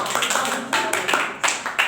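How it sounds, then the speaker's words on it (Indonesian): Primary-school pupils clap briefly in class for a classmate's answer during a social studies lesson, a short burst of scattered, fairly close hand claps in uneven bursts. "Berikan tepuk."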